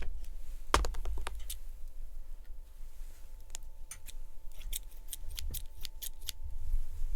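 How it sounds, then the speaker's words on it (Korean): Scissors snipping thread, a few sharp close clicks followed by a scattered series of quick light snips over a steady low background hum. "가위질"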